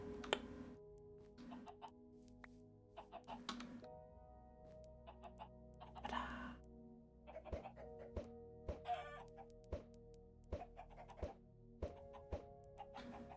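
Chickens cluck in the video game Minecraft, blue-egg-laying cold chickens among them, with scattered short clucks and sharp percussive hits over a steady droning background.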